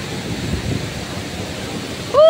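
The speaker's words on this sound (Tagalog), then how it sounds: "malakas din po ang agos ng tubig at talagang nababasa po dito ako sa kinatatayuan ko" Loud, steady roar of a strong waterfall current at Tinuy-an Falls swollen by heavy rain, rushing water close by, a continuous broadband wash, with a short tonal squeak right at the end.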